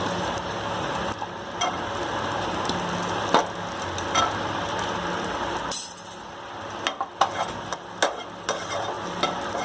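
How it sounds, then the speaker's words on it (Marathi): Raisins frying briefly in a pan while being stirred for a festive sheer khurma, giving a steady soft sizzle with scattered clinks and scrapes of the spoon against the pan. "किसमिस थोडं फ्राय करून घेते।"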